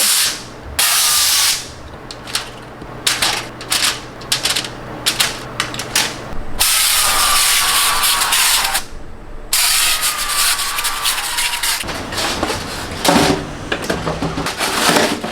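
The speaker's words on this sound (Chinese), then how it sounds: "先在底部喷一些油" Cooking oil sprayed onto the bottom of a pan in bursts, several hissing sprays separated by brief pauses, close and loud with no talking.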